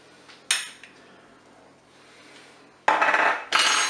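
A utensil stirs a flour-and-water thickener into sauce inside a Cookeo pot, with a few sharp metallic clinks and scrapes against the bowl, the loudest two bursts near the end, over a quiet background.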